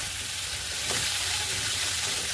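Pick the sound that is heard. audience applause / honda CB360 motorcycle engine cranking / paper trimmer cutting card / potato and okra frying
potato and okra frying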